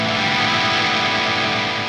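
A guitar power chord strummed with curved fingers, so the unmuted neighbouring strings ring out into a thick, messy wash of sustained tone that holds steadily for about two seconds with no talking.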